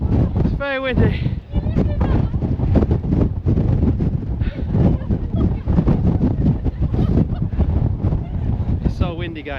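Strong wind buffets the microphone on Arthur's Seat in Edinburgh, a loud continuous roar with gusts, while people talk close by throughout.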